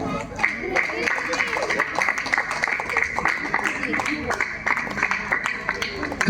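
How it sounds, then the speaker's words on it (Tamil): Audience at a St Joseph church festival lottery draw in Rochmanagar clapping for a winner, a steady dense patter of many hands sustained for several seconds under a loud announcer's voice. "கைதட்டுவோம்."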